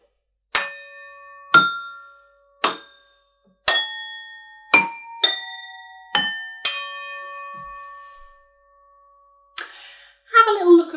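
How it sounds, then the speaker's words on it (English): Kitchen bowls and glasses struck one at a time with a chopstick give clear, ringing clinks at different pitches, each tone decaying over a second or so, followed by a softer scrape and a final cluster of quick clinks. "a collection of different bowls and glasses that I found in my kitchen cupboard that all make different sounds"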